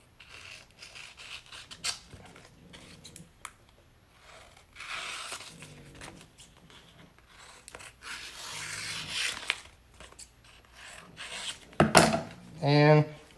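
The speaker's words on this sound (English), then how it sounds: "Trim off my edges." Vinyl decal edges trimmed by hand, with soft intermittent cutting and rubbing scrapes close up, quiet squeaks and small handling noises, and a brief voice at the end.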